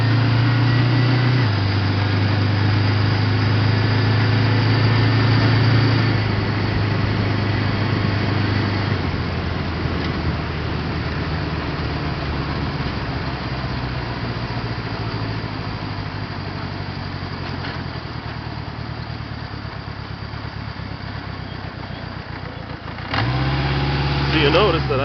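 1977 Honda CB750A Hondamatic motorcycle engine accelerating in top gear, a steady close engine drone that rises and gradually settles, with someone talking over it throughout.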